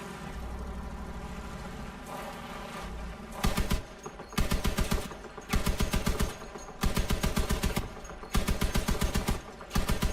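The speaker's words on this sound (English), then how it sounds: "Let's go shoot out that front frame." Bursts of automatic gunfire in the vehicle-combat game Crossout, aimed at the front frame of a vehicle. Several loud, rapid volleys fire in a stop-start rhythm, each lasting about a second, after a low engine hum.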